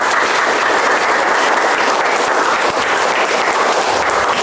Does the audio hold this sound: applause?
yes